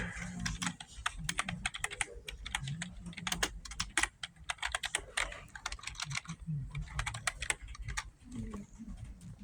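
Rapid typing on a computer keyboard, with dense bursts of clicking keys at an uneven rhythm. It is close and fairly loud, and a faint low murmur sits underneath.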